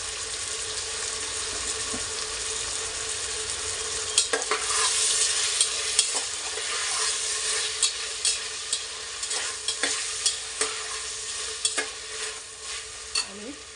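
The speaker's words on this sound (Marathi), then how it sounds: "आणि परतून घेणार आहोत 5-1 मिनिटं छान" Green peas and bay leaf sauté in an oily pan with tomato, a steady close sizzle broken by repeated sharp scrapes and taps of a spatula stirring, no voices.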